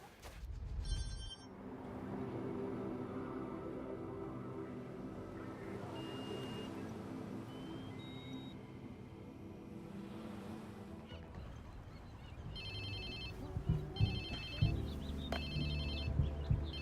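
Phone ringing in the video game Watch Dogs 2, with repeated electronic ring bursts at the start and again near the end, over a steady background of ambient game sound.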